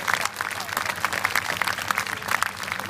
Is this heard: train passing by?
no